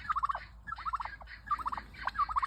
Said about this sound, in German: Aufruhr bei den Puten.